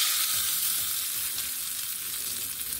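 Hot tempering is poured into a bowl of tomato chutney, setting off a loud, steady sizzle and crackle of frying oil that holds for a few seconds with no one speaking.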